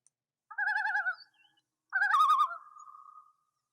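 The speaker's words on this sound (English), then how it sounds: "that's called a loon, and they're big birds that live on a lake" Two wavering, tremolo bird calls ring out in a quiet setting, the second longer and trailing off into a steady held note, like a loon's call.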